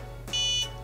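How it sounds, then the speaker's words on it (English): An Ulanzi TC001 desktop clock gives a single short, high electronic beep on a button press, lasting about a third of a second over a faint background hum. "you hear the little beep, and that locks it onto that particular screen."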